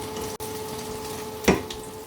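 Food frying in a pan until browned gives a low, steady sizzle and hiss, with a brief clatter of cookware partway through and no talking.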